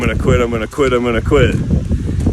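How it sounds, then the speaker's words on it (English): Low, rough wind rumble buffets the microphone steadily while a muffled voice speaks over it in short bursts. "It's windy as hell."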